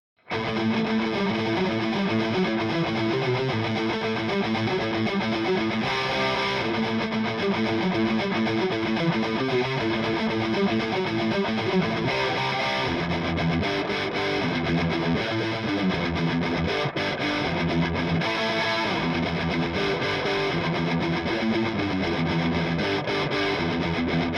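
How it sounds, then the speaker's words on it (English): Distorted electric guitar plays straight into a Marshall DSL20 amp using its built-in digital reverb, chords ringing out with a washy reverb tail, continuous and fairly loud with no talking. "I'm actually using the inbuilt digital reverb in the amp"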